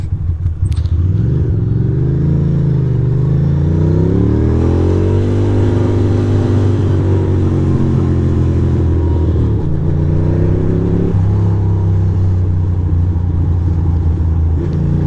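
A car drives through Brooklyn streets on Halloween night, its engine droning loud and close from inside the cabin, with pitch rising and falling as it speeds up and slows in a continuous rumble.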